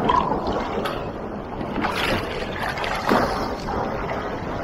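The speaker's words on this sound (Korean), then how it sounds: "어마어마한 파도가 밀려옵니다" Large Atlantic Ocean waves crash and roll in a continuous roaring wash of surf, loud and close, with occasional bursts of heavier breaking.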